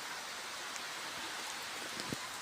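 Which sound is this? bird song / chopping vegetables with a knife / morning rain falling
morning rain falling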